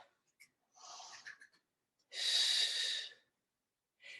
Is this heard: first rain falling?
no